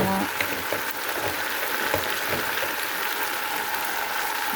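Bottle gourd sizzles and crackles as it fries in a pan with sardines, a steady, close frying hiss with faint stirring clatter that continues throughout.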